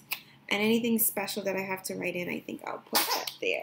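A baby boy sneezes while someone talks steadily over him, a short sharp burst near the end of her speech.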